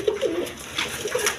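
A Gorra pigeon of uncommon colour coos close by in a few soft, repeated low phrases, with nobody talking.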